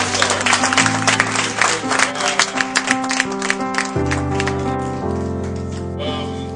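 Church congregation at a seminar service clapping in praise of the Lord, a dense, steady patter of many hands that carries on throughout over sustained music.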